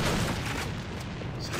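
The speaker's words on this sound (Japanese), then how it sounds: "手榴弾投擲。" A thrown grenade in the video game AVA goes off as a dense, loud low boom, filling the short moment with a rumbling burst that tails off gradually.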